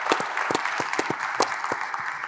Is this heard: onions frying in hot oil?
no